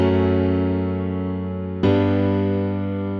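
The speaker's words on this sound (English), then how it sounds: "if we need a little bit more distortion on the piano, what we are going to do is just enable the Decapitator" Sustained piano chords run through the Decapitator distortion plugin, a thick held chord that fades and is then restruck once midway, loud and close.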